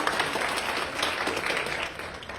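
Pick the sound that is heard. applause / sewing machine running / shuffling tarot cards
applause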